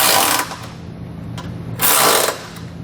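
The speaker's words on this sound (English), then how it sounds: "Now for our side bolts here, I'm going to use a 19mm socket to snug them up." Hitch side bolts on a 2017 GMC Acadia trailer hitch receiver are run down with a 19mm socket, giving two loud, brief power-tool bursts separated by quieter shop background.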